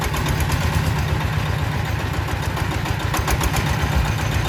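A diesel-powered corn sheller machine runs steadily and loudly nearby, its engine drone continuous and even throughout with no talk.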